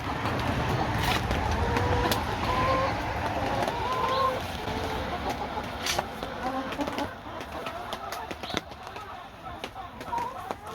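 Hens in a winter chicken run, with scattered soft clucks and bird calls over a steady rustling, scratching background that carries on throughout at moderate level.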